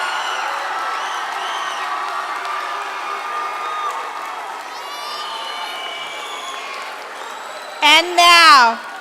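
Crowd at the Somerset Academy Canyons 2025 graduation ceremony applauds and cheers for the new graduates, a steady wash of clapping and voices that swells into loud, close whoops and shouts near the end.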